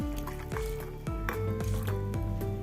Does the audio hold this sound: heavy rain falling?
no